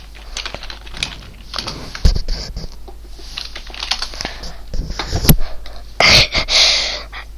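Keys on a computer keyboard clatter in uneven bursts of rapid taps, close and fairly quiet, with a few louder clacks and a brief rustle near the end.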